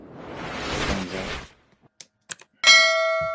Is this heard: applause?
no